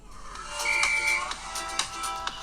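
Music plays through the built-in speakers of a OnePlus 11 phone, thinner and quieter, with a steady melodic line and light percussive ticks and no talking.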